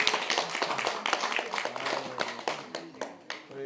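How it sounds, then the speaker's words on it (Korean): A church congregation at a New Year's Eve service claps in sharp, fairly regular beats that start strong and grow looser toward the end, with some voices mixed in. "우리 하나님께 영광의 박수."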